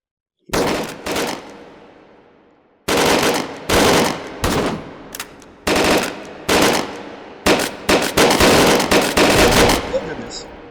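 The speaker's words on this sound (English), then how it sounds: "Taking some shots to the head. Full auto." Full-automatic gunfire in the VR shooter H3VR: loud, close bursts of rapid shots in repeated strings separated by short pauses, with a quieter ringing tail after the first burst.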